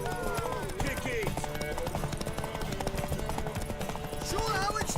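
Horse hooves clip-clop in The Witcher 3, a quick rhythmic run of strikes kept under ongoing game sounds and character speech at moderate level.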